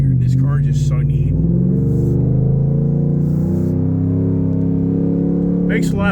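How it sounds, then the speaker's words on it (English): A car engine drones steadily while driving, a loud, sustained low hum with a slight rise and fall in pitch through most of the stretch. "Cars make a lot of noise, but they're not really going very far."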